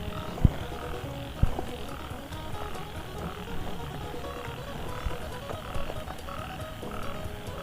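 Many frogs croak together in a dense, continuous chorus, with a few sharp knocks and clicks nearby.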